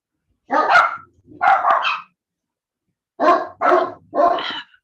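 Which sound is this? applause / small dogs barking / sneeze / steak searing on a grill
small dogs barking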